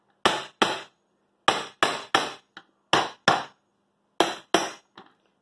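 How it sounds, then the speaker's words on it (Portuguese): Sharp hammer blows strike the metal gas piston column of an office chair, ringing clanks in pairs and small groups with short silent gaps, close and loud. "Dá umas marteladas do lado, para ver se amolece um pouco."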